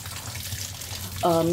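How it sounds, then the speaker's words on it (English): Tap water starts running into a kitchen sink to wet a brown sugar saver, a steady splashing flow that begins abruptly near the end after quieter room noise. "you then go back over to the sink and you wet this thing."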